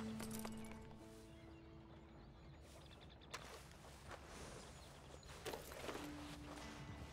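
Soft clip-clop of hooves with a horse whinnying while being brushed in Red Dead Redemption 2, quiet and somewhat synthetic-sounding, with brief tonal game-like effects in between.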